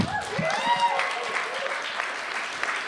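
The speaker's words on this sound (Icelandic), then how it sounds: "Við skulum gefa öllum keppendum mjög mikið klapp." Audience at a poetry slam contest applauding the contestants, steady close clapping filling the hall with a few voices mixed in.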